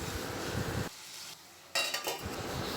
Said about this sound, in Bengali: ভালো করে মাছের সাথে মশলাটা মিশিয়ে নিয়ে ঢাকা দিয়ে এবারে কিছুক্ষণ রান্না করে নেব।